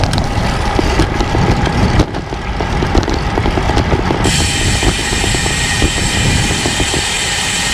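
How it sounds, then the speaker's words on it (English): Strong wind buffets loudly and continuously, rumbling and gusting with rough, uneven bursts; no voices are heard. "Wind is still gusting around."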